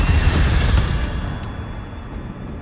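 Fiery Incendio spell cast in Hogwarts Legacy, a loud whooshing burst that starts strong and then tails off into a sustained roar over about two and a half seconds.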